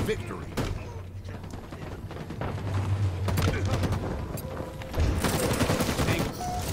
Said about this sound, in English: There's one shooting you, Vince.